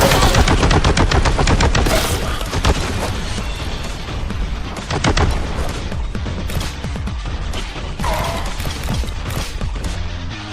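A Boltgun firing in Warhammer 40K: Boltgun, delivering loud, rapid bursts of heavy gunfire that pound continuously through a chaotic battle.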